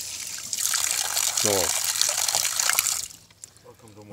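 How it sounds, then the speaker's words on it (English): Water splashes and gushes over a roller ski to rinse the sand off it, a steady rushing wash that stops abruptly near the end, while a person talks over it. "We washed it with water to get the sand out and off the ski."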